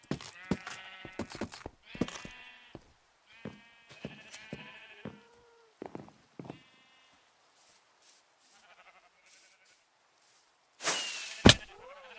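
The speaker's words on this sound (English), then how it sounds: "That's a sheep." Video game sheep bleat several times in short, wavering calls, close and clear, with quiet gaps between them. A loud burst of noise comes near the end.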